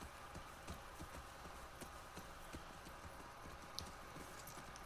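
Horse hooves clip-clopping at a steady walking rhythm in The Last of Us Part II, close and clear over a low ambient outdoor hum, with no talking.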